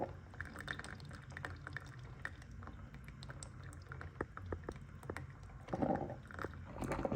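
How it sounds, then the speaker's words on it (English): A Café Valet coffee maker pours freshly brewed coffee into a cup, a soft trickling stream with small drips and clicks, fairly quiet and up close, swelling a little louder near the end. "It's filling up my cup with coffee pretty quickly."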